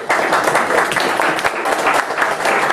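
A small crowd at a tech demo evening applauds steadily for a few seconds, dense clapping close by and evenly sustained.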